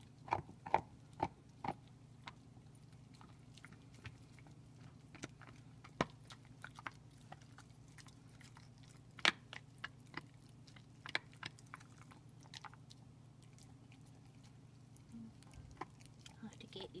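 A dog gnaws on a beef bone, producing sparse sharp clicks and crunches at irregular intervals over a steady low hum, close and fairly quiet.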